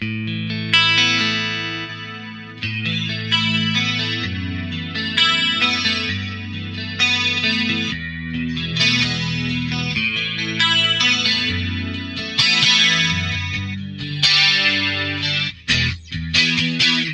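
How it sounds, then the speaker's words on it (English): Electric guitar chords shimmer and swirl through a TriStereo Chorus effect on an 80s-style rack pedalboard, played steadily and loud with a wide, wavering tone and no voices. "I have it set to kind of like a standard TriStereo Chorus sound, a little swirly."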